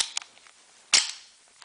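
A Smith & Wesson 22A pistol with a short, light trigger of about 3.5 pounds is dry-fired: a couple of small clicks, then one crisp, louder metallic snap, close and isolated.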